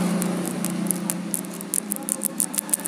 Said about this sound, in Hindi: ये चिप चिप की साउंड शायद आपको सुनाई दे रही होगी